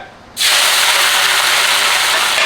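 A sudden loud sizzle erupts as Chinese kale hits hot lard in a pan over high heat, then a steady, hissing fry continues close up with no talking.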